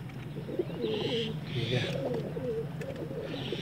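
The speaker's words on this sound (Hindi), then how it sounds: "ये सबस चीना कबूतर है" Pigeons of several fancy breeds cooing in a loft, soft rolling coos repeating close by, with someone speaking over them.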